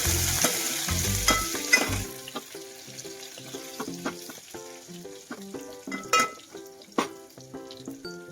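Onion frying and being stirred in a pan for chicken curry, a loud sizzle and clatter at first that then settles into softer crackling with sharp intermittent stirring knocks.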